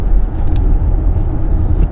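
Inside an Audi E-Tron on the move, a steady, loud low rumble of road and tire noise fills the cabin, with faint higher hiss above it.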